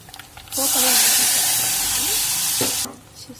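Curry leaves and spices tempering in hot oil with browned onions for byalla karam burst into a loud, steady sizzle lasting about two seconds, set between brief quieter moments before and after.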